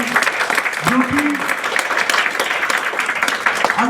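An audience at a store speech applauds, a dense burst of clapping heard close and loud, with a voice speaking over it briefly.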